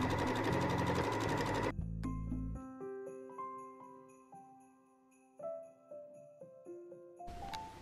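Sewing machine stitching quilting lines through fabric and batting for a bag, a dense rapid mechanical rattle for the first stretch, then stopping, leaving a ringing tonal chime that fades before the machine briefly starts again.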